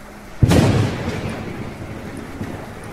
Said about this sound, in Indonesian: Tiba-tiba terlihat kilat menyambar yang ujung bawahnya tepat di atas bangunan, lalu disusul suara petir yang sangat keras